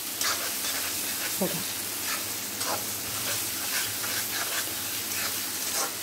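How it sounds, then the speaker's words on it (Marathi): Vegetables with spring onion, moong dal and green peas sautéing in a pan give a steady, close sizzle with the scrape of stirring, under a brief word of speech. "याला अगदी 1 मिनटं परतून घेऊयात"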